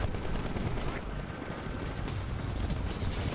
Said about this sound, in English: Oh, I got killed by a grenade.